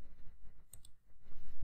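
Mouse clicks while selecting the Accessibility tab in the Windows 11 Settings window, a few short, quiet clicks at close range with no talking.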